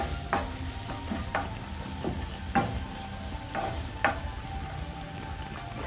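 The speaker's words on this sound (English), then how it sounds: "I'm going to add roughly crushed garlic and ginger. Stir." Onions with crushed garlic and ginger sizzle in a frying pan while a spoon stirs, scraping the pan in a steady rhythm of about one stroke per second over a constant fry hiss.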